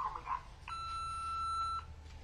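A single steady electronic beep of about a second, marking voicemail playback in a video game, rising out of a quiet background after a few faint noises.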